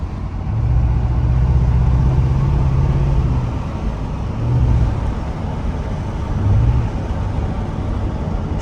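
A Chevrolet Corvette project car accelerates with a loud, sustained engine roar, rising in pitch in three surges as it pulls away, heard from nearby with road and wind noise.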